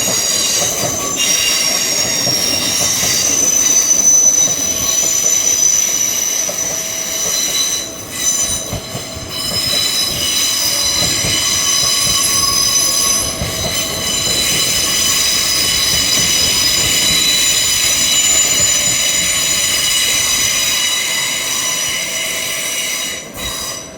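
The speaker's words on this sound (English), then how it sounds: "Make a lot of noise coming into York Station." Northern and LNER trains pull into York Station with loud, continuous wheel squeal and rail noise. High screeching tones hold steady over rumbling running gear for the whole stretch, close by, with no talking.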